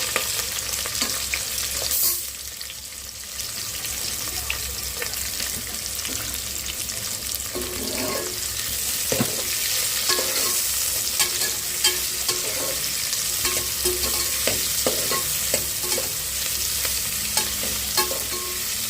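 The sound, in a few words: frying onions and green chilies in a pan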